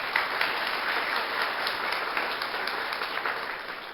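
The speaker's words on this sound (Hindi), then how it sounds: "एक बार अपने लिए जोरदार तालियां बजाइए।" A seminar hall full of teachers applauding loudly for themselves, a dense steady wash of clapping from a large crowd that carries through the whole stretch with no voices.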